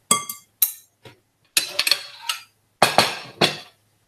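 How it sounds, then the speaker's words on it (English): Fat, here margarine, being scraped off a plate into a mixing bowl with a utensil: several sharp, close clinks and rasping scrapes of metal on crockery in short bursts separated by silence. "So I'm going to put that straight into my bowl and scrape a little bit more off the plate."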